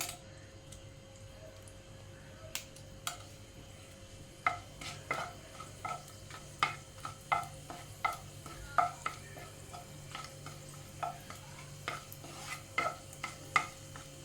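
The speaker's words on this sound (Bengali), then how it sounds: "এবারে ফোড়নের জন্য আমি দিয়ে দেবো 2টো শুকনো লঙ্কা" Two dry red chillies frying in oil for a Bengali tempering, heard as a faint background sizzle with a hum, punctuated by many quick, regular spoon taps and clinks against the pan, close and without speech.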